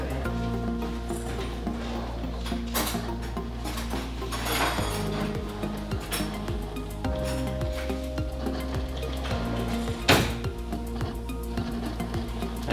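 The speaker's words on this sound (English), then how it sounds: "Let's just stir in that crema." A spoon clinks and scrapes inside a cup of freshly pulled espresso as the crema is stirred in, with soft metallic taps and a sharp clink near the end over a low steady hum.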